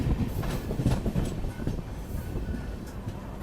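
Rolling rumble and clatter of the Vande Bharat Express train crossing at Kudal railway station, moderately loud and continuous, with a few brief knocks.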